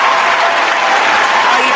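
An audience applauds during a live talk show about Atlanta Falcons players, a dense, sustained clatter of many hands clapping at close range, loud and continuous with no pauses.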